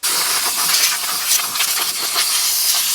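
Compressed air blasting dirt out of the air filter housing on a John Deere D160 lawn tractor: a loud, continuous close-up hiss that holds steady throughout, with no talk.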